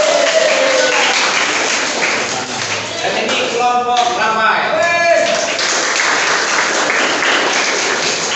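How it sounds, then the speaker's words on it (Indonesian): Classroom applause for a student group during a civics quiz, dense continuous clapping filling the room while a teacher talks over it partway through. "Tepuk tangan untuk kelompok Dayak."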